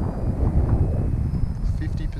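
A 64mm EDF RC plane, a Lippisch P.15 on a 4S battery, runs at part throttle with a steady whining hum and a faint high tone, partly buried under wind noise and rumble outdoors.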